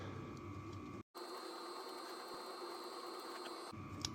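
Ratchet wrench clicking steadily as it tightens the crank nut on a turbocharged LS1 V8 in a Datsun 240Z, a dense run of close mechanical ticks broken by a brief pause, with no talking.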